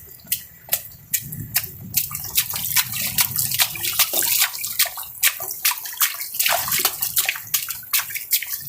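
Rainwater pooled on a roof over a clogged drain, sloshing and splashing in quick repeated bursts, close and fairly loud, with steady trickling underneath and no talking.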